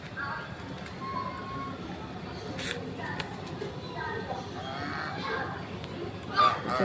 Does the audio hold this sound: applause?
no